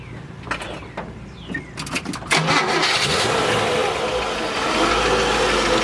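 1955 Chevrolet Bel Air convertible with a 4-barrel carburetor and Powerglide transmission, its engine cranking with some clicks and rattles before catching and settling into a steady, close, rumbling idle.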